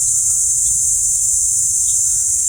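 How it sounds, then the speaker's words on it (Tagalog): Loud, steady chorus of crickets in the trees above a beach campsite in Calatagan, Batangas, a continuous high-pitched trilling that runs unbroken through the whole stretch with no voices. "Ang lakas ng kuliglig sa taas,"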